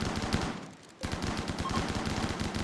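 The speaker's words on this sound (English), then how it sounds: "With their shotguns." Shotguns fire in the colony-building video game RimWorld, a rapid run of sharp blasts that pauses briefly and then resumes in a dense, steady volley with no talk.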